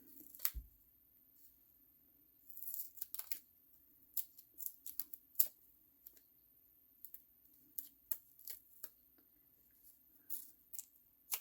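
Scissors trim a piece of foam-backed paper for a soup bowl easel card, giving a quiet string of short, crisp snips and clicks spread irregularly through the stretch, close to the mic with no talking.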